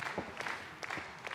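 Wrestling fans in the arena roar and clap in a brief burst after a big collision in the ring, with a few sharper cheers standing out.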